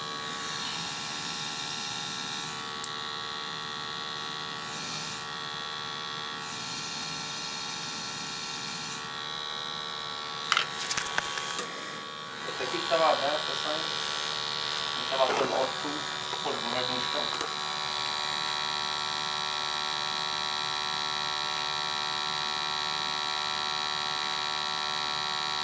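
Old gas boiler firing up and running, a steady mid-level hum and buzz throughout with a few clanks and knocks partway through, while people talk nearby.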